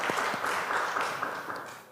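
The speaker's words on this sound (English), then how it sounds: "A warm round of applause for him." An audience at a poetry festival claps, a moderately faint wash of many hands with a few distinct slaps, holding steady before fading out.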